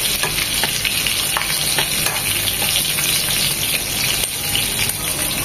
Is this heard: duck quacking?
no